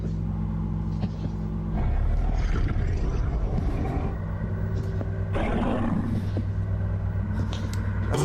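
A dragon's roar from a How To Train Your Dragon analog horror piece: loud, rough, rumbling bursts that swell after a quieter start and surge again midway, with no talking.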